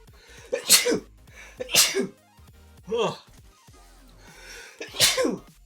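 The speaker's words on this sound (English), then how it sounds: "Hang on, I need to sneeze." Four sneezes in a row, each a sharp explosive burst with a short breath before it, loud and close, separated by brief pauses.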